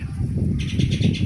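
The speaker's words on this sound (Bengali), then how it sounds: "শুধু বাতাস আর পাখির ডাক" Birds calling outdoors beneath a banyan tree on a breezy day near the Ichamati river: a series of rapid chirps and calls over steady wind rumble, moderately loud, with no speech.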